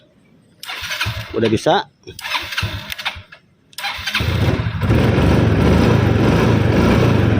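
A motorcycle is cranked several times on its electric starter after a blown main fuse has been reconnected, then catches and settles into a loud, steady idle; someone speaks briefly between the cranks.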